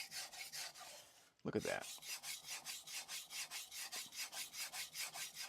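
An Aogami steel kitchen knife is drawn over a So-Issou resinoid whetstone in a steady, even rhythm of close, gritty rasping strokes, broken by a brief pause and a short spoken remark.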